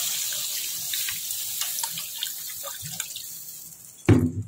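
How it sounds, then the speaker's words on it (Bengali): Water poured from a tap or jug into a cooking pan while making a katla fish curry, a steady close splashing stream that ends in a louder gush and clatter. "আমি এবার জলটা দিয়ে দেবো।"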